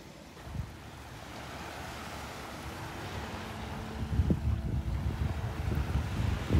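Wind blowing along a beach at Delnor-Wiggins, a southerly breeze carrying steady low rumbling buffets and surf-like wash that build slightly louder toward the end, with no talking.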